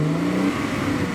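An internal combustion engine car revving, a loud close engine tone that falls in pitch and then settles into a steady hum, brief and without talk.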